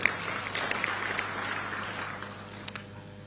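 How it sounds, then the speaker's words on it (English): A large audience applauds in a formal hall after a speech, giving a broad, steady wash of clapping heard from a distance at moderate loudness that slowly thins out. "A round of applause."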